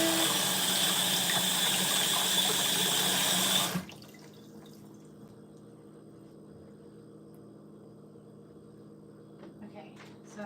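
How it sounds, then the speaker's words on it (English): A kitchen tap runs steadily as fingers are rinsed under it, a close, loud gush for a few seconds before it shuts off, leaving faint room noise and a few small clicks. "rinse off my fingers"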